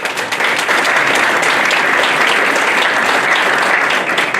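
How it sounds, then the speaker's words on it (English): Sustained audience applause fills a candidate forum for 20th District Senate candidates, a steady dense clapping from a crowd that holds at full strength for over four seconds, close and loud, with no speech over it. "Round of applause."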